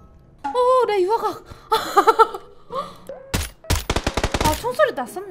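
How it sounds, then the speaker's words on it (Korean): Rapid bursts of gunfire from the video game Miracle crackle loudly after a stretch of high-pitched voices, with sharp repeated shots clustered near the end. "아 총소리 났었네."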